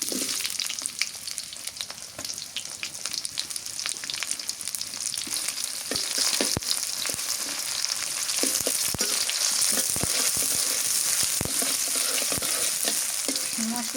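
Onion frying with bay leaf, cinnamon and garam masala gives a steady close hiss, broken by scattered pops and occasional stirring clatter, with no talking.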